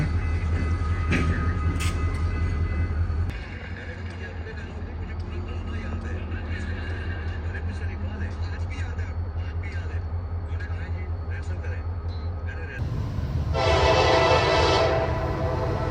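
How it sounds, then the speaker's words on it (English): A westbound CSX manifest freight train, M561, heading for Cincinnati, Ohio. It rumbles past loudly and close by with a continuous heavy roar and clanking wheels, then gives a sustained horn blast near the end. "Westbound Manifest M561, headed for Cincinnati, Ohio is here with terrifying power."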